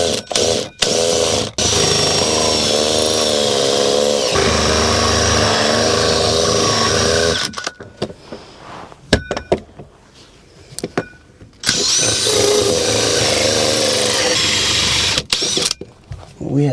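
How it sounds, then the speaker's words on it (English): A power tool cuts through four layers of plasterboard, giving a loud, close motor whine with a grinding edge that runs in long bursts and drops out for short gaps. "Just had to cut through 4 layers of plasterboard here."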